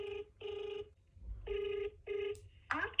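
An unanswered outgoing phone call rings back in evenly spaced, buzzy tone pulses, four clear rings, loud and close, with a short burst of other noise at the end.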